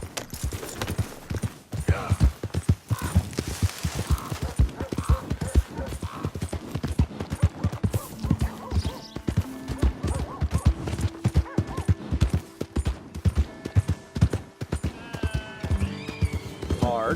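A horse's hooves clip-clop in Red Dead Redemption 2, set in the 1899 frontier town of Valentine. The rhythmic hoofbeats run steadily and close for the whole stretch, with occasional louder thuds and faint game sounds underneath.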